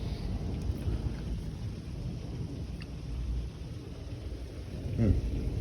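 Heavy rain pours down outside, a constant dense low hiss with a brief louder rumble near the end.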